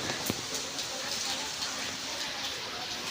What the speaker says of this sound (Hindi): फाइनली यहाँ पे बारिश शुरू ही हो गई